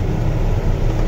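A car passes on a narrow single-lane road, a steady low engine rumble close by throughout, with no voices.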